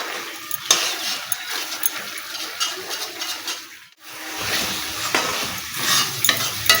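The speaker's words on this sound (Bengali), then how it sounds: "ডাবের শাঁসটা দিয়ে কষাচ্ছি" Spice masala stir-fried with tender coconut flesh for a giant prawn dish, loud close sizzling with repeated scraping strokes of a spatula, briefly pausing midway before the stirring and frying resume.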